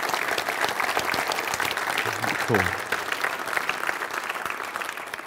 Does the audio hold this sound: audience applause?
yes